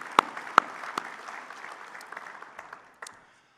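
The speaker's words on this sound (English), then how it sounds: "Let's give our plant personnel a big round of applause" Audience applause for ethanol plant personnel at the International Fuel Ethanol Workshop general session, a steady, moderate crowd clapping with a few sharp louder claps, fading out near the end.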